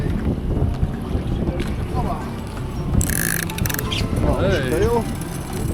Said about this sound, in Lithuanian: Biški vėjas toks sukilęs, nemalonus, bet šiaip smagu.